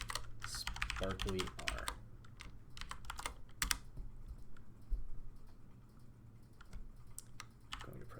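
Rapid clicks of keys on a computer keyboard come in bursts as a command is entered, with someone speaking briefly over the typing.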